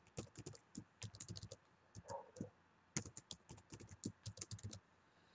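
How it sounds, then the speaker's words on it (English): Someone types a password on a computer keyboard, producing quick irregular runs of crisp key clicks with brief pauses, close and quiet with no talk. "I'm going to type in my password."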